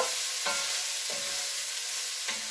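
Pot roast ingredients with bay leaves are stirred in a hot pan to lift the browned bits, giving a steady bright sizzle broken by a few scraping strokes of the spoon, with no voices.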